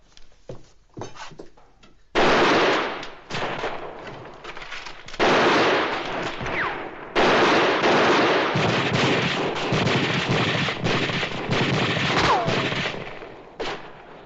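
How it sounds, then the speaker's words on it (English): Rifle gunfire in a 1967 western war drama, a long run of sharp, loud shots and volleys in rapid bursts with short gaps, some ricochet-like whines among them. "We gotta keep these guns working."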